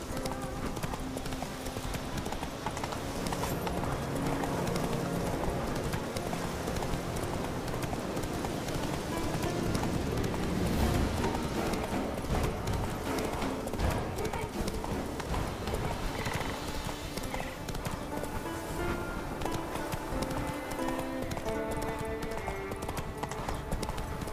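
Roach, the horse in The Witcher 3: Wild Hunt, gallops with fast, steady clip-clopping hooves that run continuously under a patter of rain, with occasional voices in the background.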